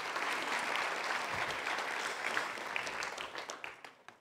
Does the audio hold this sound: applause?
yes